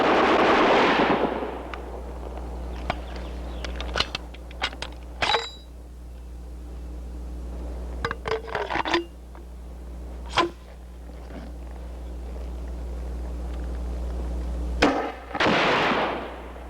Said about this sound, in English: The HK-69 grenade launcher is for firing 40mm explosive grenades.